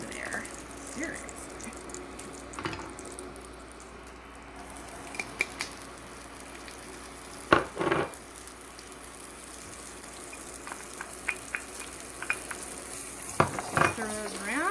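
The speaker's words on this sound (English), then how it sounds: "Stir those around." Sun-dried tomatoes and minced garlic frying in a skillet, stirred with a few clattering scrapes of utensil on the pan over a steady soft sizzle; occasional louder knocks stand out near the end.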